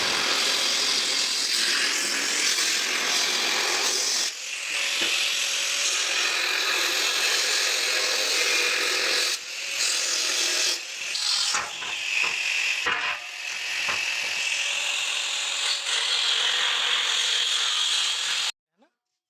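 Steel angle for a solar panel mounting base being cut with a power tool, a steady loud grinding rasp that runs almost continuously with brief dips, then stops abruptly at the end.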